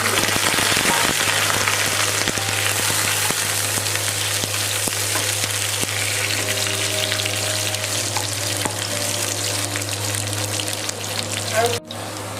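Cumin seeds and fried potatoes sizzle steadily in a hot wok for an Assamese papaya fish curry, a loud continuous frying hiss with occasional stirring clinks near the end.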